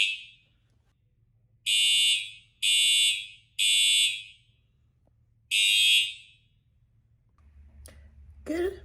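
Hotel fire alarm in Biloxi, Mississippi sounding four loud, shrill electronic blasts at regular intervals, with quiet gaps and low background rumble between them, followed by faint clicks and muffled noise at the end.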